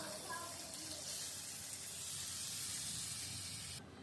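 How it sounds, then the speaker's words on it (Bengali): Water is poured from a kitchen tap into a cooking pot for a fish curry. It makes a steady, close, hissing splash that runs for several seconds and then eases off at the end. "একটু জল দিয়ে দিব।"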